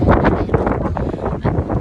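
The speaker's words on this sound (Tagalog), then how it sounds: "palakas na palakas na yung hangin" Strong gusty wind carrying snow buffets the microphone, a loud rumbling roar that surges and dips throughout.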